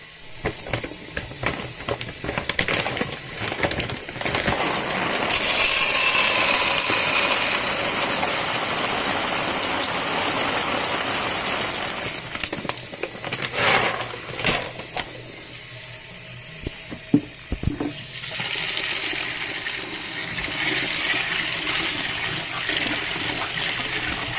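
Beans are washed under running water as preparation for ewa and aganyin sauce, with a steady, close rush from the tap, sloshing and splashing that grows louder and softer, and a few knocks in between.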